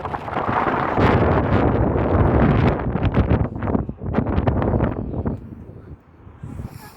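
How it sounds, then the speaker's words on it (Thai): Strong seaside wind buffeting the microphone in loud, rough, continuous roaring gusts that surge and drop, easing briefly near the end. "ทุกคนลมแรง"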